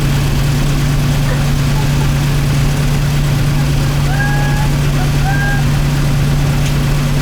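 The engine of a Clark Cortez motorhome under restoration runs at a steady idle, a loud, unbroken low drone lasting throughout, with a few faint high chirps in the background.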